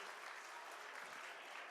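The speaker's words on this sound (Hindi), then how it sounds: "एक बार जोरदार सर के लिए तालियां बजाते हैं" Dense applause for a teacher at a school farewell event, a crowd clapping steadily and evenly throughout at moderate distance, with no voices standing out.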